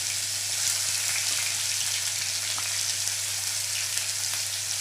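Onion paste and chopped onion frying in hot oil for a chicken dish, giving a steady, dense sizzle throughout with small crackles and no talking.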